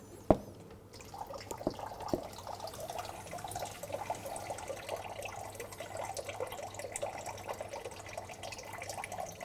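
Water runs from a tank down through a pipe after a valve is opened in a hydraulics friction demonstration; a click at the start gives way to a steady, soft rushing flow that continues throughout.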